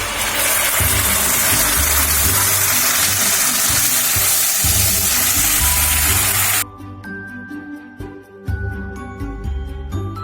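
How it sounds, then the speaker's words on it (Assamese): Tomato paste with ginger and garlic fries in oil for rajma curry, a loud, even hiss close by for about six seconds, after which it stops and soft chiming music with low thumps takes over. "বিলাহীখিনি এতিয়া মই 1-2 মিনিটমানৰ কাৰণে ভাজি থাকিম"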